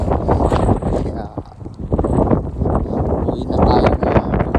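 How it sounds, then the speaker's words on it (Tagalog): Strong wind buffets the microphone outdoors near a boat, producing loud, uneven low rumbling gusts that come and go, with a person talking over it. "lakas na yung hangin dito"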